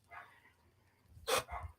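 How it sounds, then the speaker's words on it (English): Dog barking at dinner time in a home, a faint soft bark early on, then a louder sharp burst followed by a shorter bark near the end. "I hope you guys don't hear the dog barking in the background"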